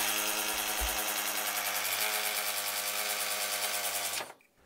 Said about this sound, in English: the next step is to drill the holes